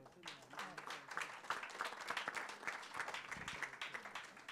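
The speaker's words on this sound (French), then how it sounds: "On peut les applaudir." A small audience at an agricultural startup competition's prize ceremony claps steadily for the winners, a dense, even patter of applause heard at a distance.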